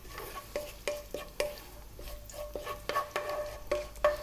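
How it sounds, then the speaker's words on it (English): Cumin seeds and green cardamom sizzle in hot melted oil over medium heat, a soft steady frying hiss broken by a run of sharp clicks and taps from a utensil against the pan, close up, with no voices. "I'm going to drop in those cumin seeds and the green cardamom"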